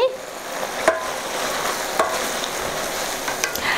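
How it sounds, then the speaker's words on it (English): Chicken, chili and onion stir-frying over very high heat in a Thai ginger stir fry, giving a steady, close sizzle with a couple of sharp clacks of a utensil against the pan. "It's a really quick stir fry. You just have to cook in a really high heat."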